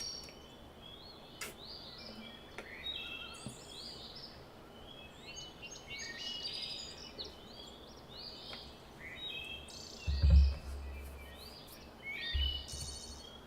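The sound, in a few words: birds chirping in the video game Everlasting Summer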